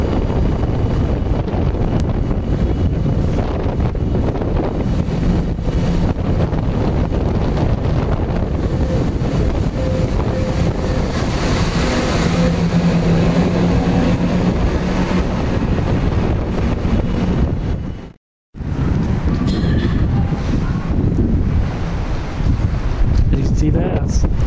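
Strong wind buffets the microphone on a railway station platform in Nuneaton, a loud, roaring, continuous rush that cuts out briefly once before gusting back in.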